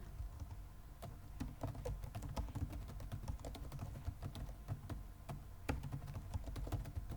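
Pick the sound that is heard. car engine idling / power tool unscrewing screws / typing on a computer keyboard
typing on a computer keyboard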